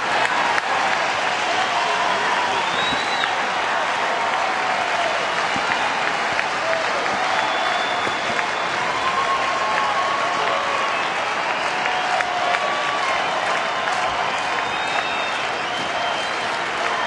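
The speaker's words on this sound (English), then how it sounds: "And here comes the crowd." A crowd of nearly 29,000 at a Detroit night baseball game between Baltimore and Detroit applauds and cheers continuously, a dense, steady wash of clapping from the stadium stands.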